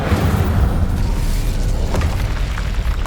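Incendio fire spell going off in the game Hogwarts Legacy, a loud, rumbling burst of flame that roars continuously for a few seconds with a deep, sustained boom.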